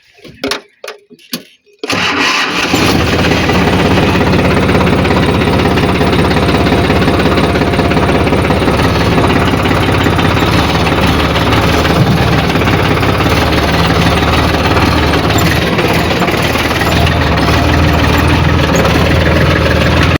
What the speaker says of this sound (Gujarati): ટ્રેક્ટરનો ફેરો કરવા જવાનું છે